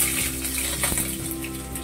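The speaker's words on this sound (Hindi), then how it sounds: "उसमें मैंने प्याज डाल दिया" Chopped onion hits hot oil in a pan for drumstick curry, giving a steady, dense sizzling hiss up close that holds at an even loudness throughout, with no one speaking.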